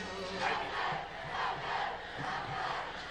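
A high school football crowd chants and roars in rhythmic waves between the third and fourth quarters, distant and reverberant, with swelling cheers repeating about once a second.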